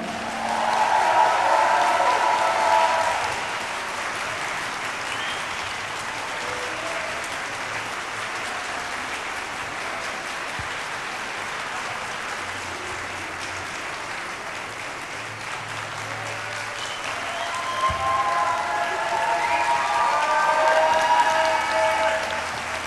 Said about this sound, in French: je vais donc vous demander de faire un vrai tonnerre d'applaudissements